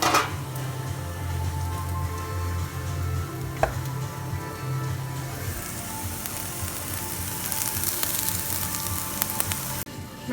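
Garlic and lemon zest frying in avocado oil, a steady close sizzle with scattered crackles and a soft knock, growing brighter and hissier toward the end, no voices.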